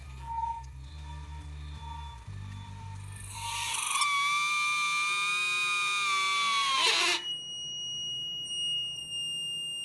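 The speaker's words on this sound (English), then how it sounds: "Intensive care unit beeping sound." Electronic intensive care unit monitor beeping, a steady high tonal alarm that rises in, holds loud for a few seconds and then drops to a quieter continuous tone, with no talk.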